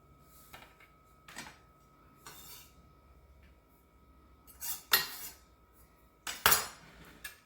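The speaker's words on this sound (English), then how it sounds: "Let's go ahead and put these macadamia nuts in our batter" Macadamia nut pieces being stirred into banana bread batter: a handful of scattered spoon-on-bowl clinks and scrapes in a quiet kitchen, two louder clattering knocks near the end, no talk.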